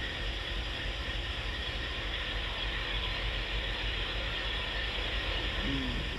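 A train slowing to a stop in a train simulator video game makes a constant, even rumble and hiss that holds level throughout with no break.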